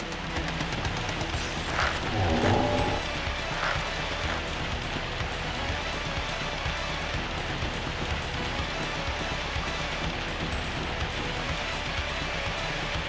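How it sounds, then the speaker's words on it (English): Steady rain from the Sega Saturn game Grandia, a continuous hiss of falling drops that stays even and fairly loud throughout, with a brief swell of splashier detail near the start and no talking. "So this is rain."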